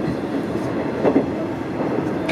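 A train arrives at the terminal, Sendai station, heard from inside the carriage as a steady low rumble with soft wheel clatter and faint squeaks.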